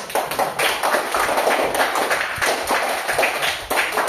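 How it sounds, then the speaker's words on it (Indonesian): Close, brisk clapping from a small group, a steady patter of hand claps with uneven bursts throughout. "Beri tepuk tangan dulu."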